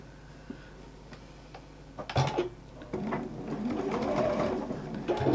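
A sewing machine stitching fabric, a soft rapid mechanical ticking that grows louder and busier in the second half, with a brief thump partway through.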